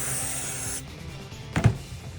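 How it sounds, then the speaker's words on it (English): Carpet cleaner hisses from a spray can in one short, steady burst lasting under a second, followed by quieter handling noise and a soft knock. "I'm just spray a little bit of carpet cleaner."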